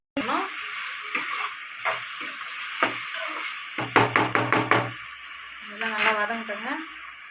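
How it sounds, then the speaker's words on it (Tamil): Tomatoes with salt sauté in a pan for fish curry, giving a steady sizzle broken by scraping stir strokes and a quick run of rhythmic taps. A person talks over the cooking. "தக்காளி வதக்கு உப்பு போட்டுக்கணும் நல்லா வதக்கி விட்டுக்கலாங்க"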